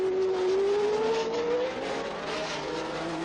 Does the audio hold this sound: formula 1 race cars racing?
yes